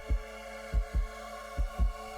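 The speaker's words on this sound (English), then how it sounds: "His heart was pounding like a drum against his ribs." Heartbeat sound effect of deep, throbbing thumps in uneven double beats, five pulses over a low steady hum, with no speech.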